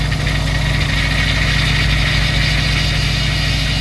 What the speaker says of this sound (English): That's just the power steering pump, adding some power steering.